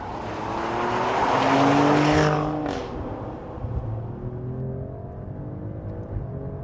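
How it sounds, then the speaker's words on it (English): A Porsche Macan GTS or Alfa Romeo Stelvio Quadrifoglio SUV engine roars loudly past, rising then fading, with tire noise and a rough, burbling exhaust note continuing afterward. "And quite a fruity, barky exhaust note."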